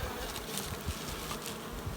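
Honey bees swarming at a beehive with swarm cells, a dense continuous buzz holding steady throughout, close and moderately loud with no voices.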